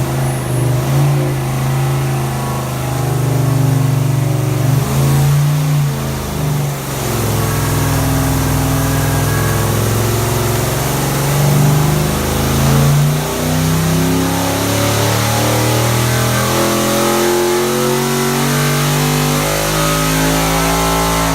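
A stock-stroke 6.2-liter LSA V8 with 9:1 compression, naturally aspirated, revs hard on an engine dyno, its loud droning roar holding and climbing steadily throughout with no talking.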